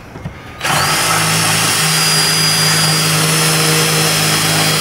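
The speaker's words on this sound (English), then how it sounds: "sometimes you might have to drill it out." A power drill drills out a screw in an electrical box, whirring up suddenly after a brief quiet moment and running steadily and loudly, with a sustained motor hum.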